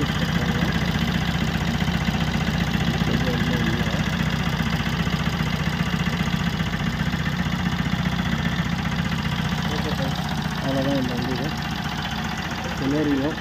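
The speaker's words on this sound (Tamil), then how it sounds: "Celerio diesel engine." A Suzuki Celerio two-cylinder diesel engine idles steadily throughout, a continuous low rumble with a rattly knock, heard close up and alone.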